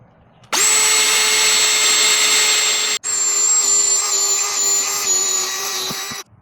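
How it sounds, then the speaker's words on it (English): A power drill with a 5/8 inch bit whines steadily and loudly for several seconds, pausing briefly midway, then spinning up again as it bores through. "I'm using a 5/8 inch drill bit, and you want to drill as straight as possible."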